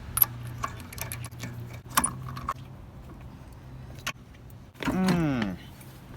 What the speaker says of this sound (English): take off the lug nuts and the wheel.